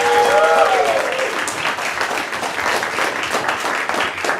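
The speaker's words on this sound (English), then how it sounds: "Let's give them a round of applause." Improv show audience applauding as players come onstage, a loud full burst of clapping sustained throughout, with a brief whoop near the start.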